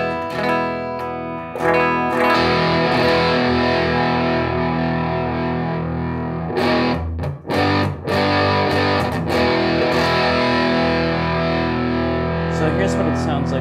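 Electric guitar through a Lil Trees Studio Friend distortion pedal with the gain turned up, sustaining thick, saturated chords that ring loud and close, with a few brief gaps between strums.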